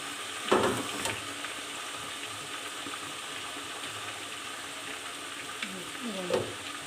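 Chicken pieces with garlic paste frying for pickle, a faint steady sizzle with a couple of brief stirring clatters.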